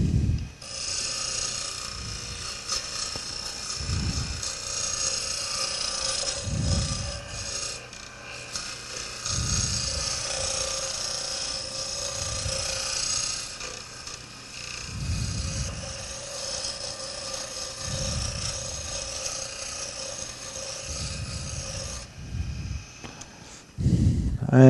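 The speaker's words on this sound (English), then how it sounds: "I'm going to go back to my roughing gouge." Roughing gouge cutting a small wood block spinning on a lathe, a continuous loud rasping scrape that pulses in regular slow sweeps as the tool travels along the work, with no talk over it.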